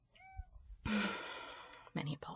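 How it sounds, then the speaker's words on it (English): Pet cats meowing indoors, a couple of short, fairly close calls with a sighing, breathy quality, alternating with quiet gaps. "many apologies, my cats have noises to make."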